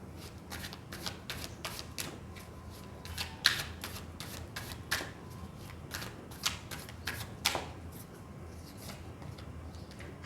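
Tarot cards are shuffled and drawn during a love reading, giving a steady run of close, soft papery riffles and flicks with a few sharper snaps. No one speaks.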